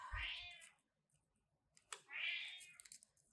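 A house cat meows twice, loud and close, with clicking and light tapping in a quiet workshop between the calls.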